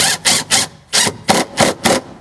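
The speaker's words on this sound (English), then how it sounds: "We'll grab our drill." A power drill spins a nut down onto a stud while a subwoofer is installed in a Tesla Model 3 or Model Y, giving seven short, loud, evenly spaced whirring bursts close to the listener.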